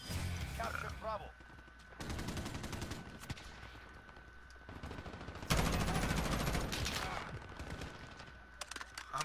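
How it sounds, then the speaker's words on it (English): Gunfire in the Call of Duty Modern Warfare beta during a Domination match, loud sustained bursts of automatic weapon fire in several long stretches, heard close with game audio around it. "I'm shooting at wood."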